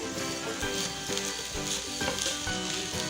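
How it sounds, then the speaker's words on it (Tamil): Masala rice being stirred in a hot pan, a steady sizzle and frying crackle with repeated scraping strokes of the spoon lifting the spiced rice from the bottom, close and continuous with no talking. "இப்போ நம்ம ரைஸை நல்லா கலந்து விட்டுக்கலாம்."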